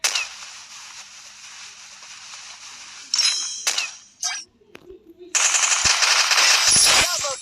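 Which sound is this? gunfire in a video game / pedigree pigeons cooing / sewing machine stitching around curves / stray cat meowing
gunfire in a video game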